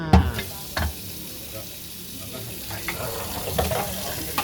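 Water poured into a hot pan of stir-fried Korat noodles, a soft hiss and sizzle with a few clattering spatula stirs and knocks, close and moderately quiet.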